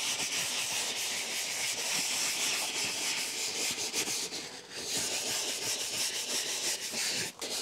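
A cleaning cloth rubs steadily over a white Tesla seat, a continuous close scrubbing hiss with slight rhythmic strokes and no talking.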